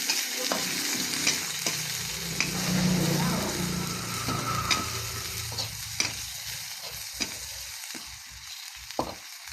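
Onion added to a pan of hot oil for adobong pancit, giving a loud, continuous sizzle with scattered sharp ticks and clinks of stirring throughout.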